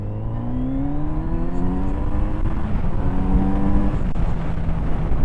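A Kawasaki Z900RS motorcycle pulls hard in second gear on a Cornish country lane. The engine note climbs steadily and stays loud and close throughout, with no talking.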